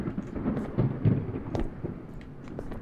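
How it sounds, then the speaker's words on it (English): Rumbling thunder inside a horror video game, a low rolling roar with scattered sharper cracks spread through the clip, fairly loud and steady without speech. "Nice thunder sounds."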